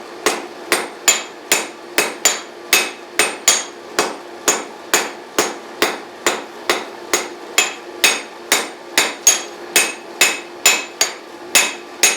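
A hammer repeatedly striking a blade on a cast steel Doyle anvil, sharp ringing metallic blows in a steady rhythm of about two per second, loud and close with no talking.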